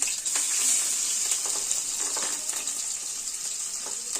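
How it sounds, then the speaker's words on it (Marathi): Green chilies and garlic hit hot oil in a pan, giving a bright, steady sizzle with a few crackling pops. No one speaks over it. "आपण तेलामध्ये मिरची घालून घेऊया ठिकरी द्यायची आपल्याला आणि लसूण घालून घ्यायचं"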